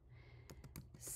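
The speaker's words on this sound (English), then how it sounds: "I'm going to type in crayons here." Several quick keystrokes tapped on a computer keyboard while entering words for preschool classroom decor labels, a short burst of clicks close by and fairly quiet over faint room hum.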